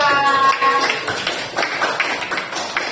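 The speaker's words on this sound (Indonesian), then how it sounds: "Tepuk tangan untuk kelompok 2." Classroom applause for a student group, a burst of quick overlapping hand claps from nearby pupils, loudest at first and thinning out over a few seconds, with a faint tone lingering at the start.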